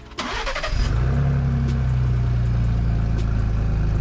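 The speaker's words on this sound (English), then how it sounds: "You got to hear what the car sounds like with no exhaust." A Ford Bronco engine with the exhaust removed cranks and fires up, then settles into a loud, raw, unmuffled idle with a deep rumble, close by.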